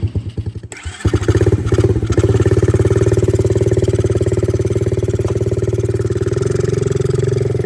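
A small Amazon mini dirt bike engine starts up and settles into a loud, steady close-up idle with a fast, even putter, a few brief blips at the start before the running note holds.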